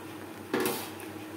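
A spoon scrapes and knocks once against a pan of tilapia fish curry with kochur loti, a single sharp clatter that rings briefly over a quiet background.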